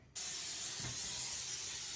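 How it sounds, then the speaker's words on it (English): Cooking spray shoots onto a pan in one continuous, close, loud hiss lasting nearly two seconds, starting abruptly after a moment of quiet. "use some cooking spray and spray the pan"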